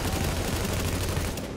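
Sustained burst of gunfire in The Division, a dense rattling fusillade of rapid shots blending into a continuous loud roar of combat with no clear gaps, no voices audible.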